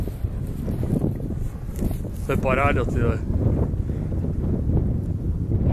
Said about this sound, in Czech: No ten vítr to krásně žene.